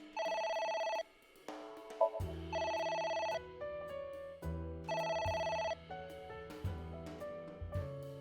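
A telephone in the video game AI: The Somnium Files rings in repeated electronic bursts, spaced a couple of seconds apart, over a low musical backing.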